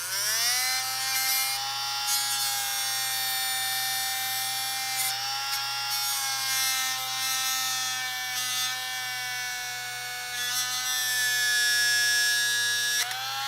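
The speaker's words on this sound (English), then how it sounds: "So we'll Dremel this right here on the top like I showed." A Dremel rotary tool cuts into hard plastic at close range, a loud, sustained high-pitched whine with a strong steady tone and small shifts in pitch as it bites the material.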